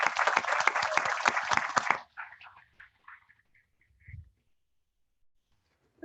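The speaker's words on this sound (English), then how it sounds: "Let's please give them all a big round of applause." An audience at a Chicago event claps and cheers, a dense burst of applause for about two seconds that thins into scattered claps and fades to near quiet.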